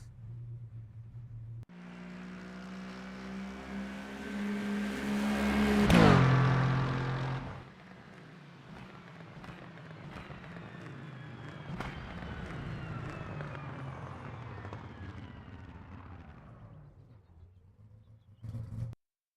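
Sim race car engine in iRacing revs up to a loud peak, then lifts off into a rumbling, popping overrun burble that fades slowly and cuts out near the end, with no voices over it.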